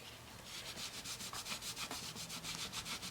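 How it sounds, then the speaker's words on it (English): Leftover paint is rubbed onto a surface in quick, rhythmic back-and-forth scrubbing strokes, soft and close, with no one talking. "I'm going to wipe this off while I'm rubbing the paint on the other side."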